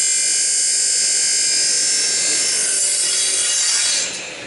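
A radial arm drop saw cuts through wood with a loud, steady, high-pitched whine and rasping bite that holds for about four seconds, then drops off as the cut ends.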